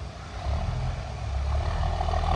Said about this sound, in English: it's the first time I've seen that truck move.